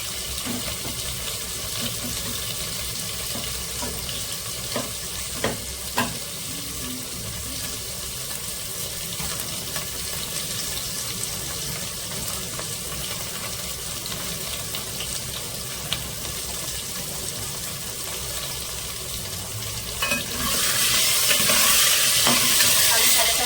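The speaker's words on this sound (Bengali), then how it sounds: "আলু একটু ভেজে নেব" Potatoes frying in a pan, a constant sizzle under occasional stirring clicks and scrapes, which swells into a louder hiss near the end.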